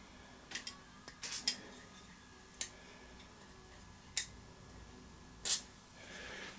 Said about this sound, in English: He's got some WD-40. That might do.